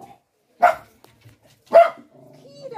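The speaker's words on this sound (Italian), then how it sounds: "ma c'era un cane insieme" A dog barks twice at the seaside, sharp close yaps about a second apart, followed by a faint whimper with quiet background voices.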